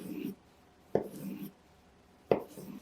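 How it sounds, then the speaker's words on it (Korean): A knife slices thinly through a peeled avocado on a cutting board, three quiet separate cuts each ending in a light tap, close up and unhurried. "아보카도는 껍질을 벗겨낸 다음 얇게 슬라이스 해주시고요"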